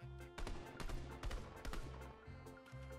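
Gunfire from an enemy player in Fortnite, heard as several loud bursts of shots in an irregular rhythm over a steady game hum.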